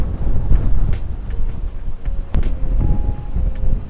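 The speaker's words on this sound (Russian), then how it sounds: "Ветер очень сильный." Strong wind buffets the microphone on the rocky Crimean coast at Simeiz, a loud, gusty rumble with uneven bursts throughout.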